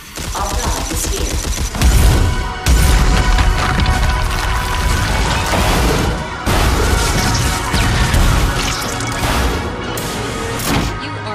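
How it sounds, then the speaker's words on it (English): Loud, dense battle noise in the video game Red Faction Armageddon: rapid bursts of gunfire mixed with crashes, smashing debris and booms that run continuously at close range. "Just listen for the gunshots."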